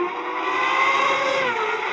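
High-pitched whine of a 1998 CART IndyCar race car running a Honda engine on its final lap, a sustained loud tone with a slight pitch shift as it passes, heard alone without talk.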